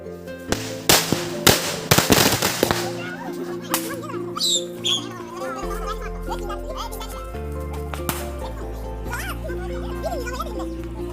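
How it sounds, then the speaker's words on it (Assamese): A rapid burst of sharp firecracker pops early on, followed by music with chirpy sound effects and occasional crackles. "ব'লা ফটকা চটকা কিনি পেলাই ফুটাম অলপ"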